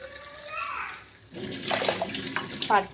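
Tap water runs into a vessel in a home kitchen for about the second half, a steady near splashing rush that follows a brief stretch of a voice talking.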